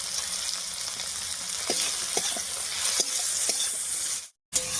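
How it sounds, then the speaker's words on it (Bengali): Tomatoes with salt and turmeric are stirred in a sizzling pan for a cabbage and lentil dish, a steady fry hiss with several distinct spoon scrapes near the mic, then a brief cut to silence at the end. "লবণ হলুদ দিয়ে টমেটোটা নাড়িয়ে নিয়েছি"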